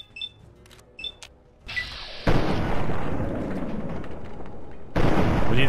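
A nuke launcher explosion in the Fallout 3 video game starts with a few sharp clicks and mechanical ticks, then a loud, sustained roaring blast that rumbles on, followed by a second swelling boom at the end.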